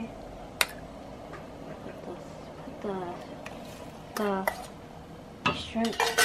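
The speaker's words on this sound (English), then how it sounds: "Just stir it slowly." A shrimp pineapple curry being stirred in a pot at home, with a few clinks of the utensil against the metal pot and soft scraping, while voices talk nearby between the stirs.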